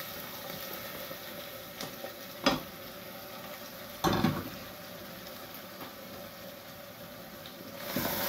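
Potatoes fry in a pan with a quiet, steady sizzle, broken by a few soft scrapes and clanks as they are stirred.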